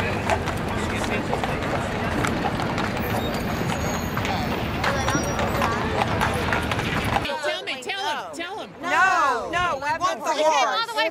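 Carriage horses clip-clop on a New York City street amid a crowded tourist scene, the hoof beats steady under loud overlapping chatter, then a single voice speaking clearly over quieter surroundings.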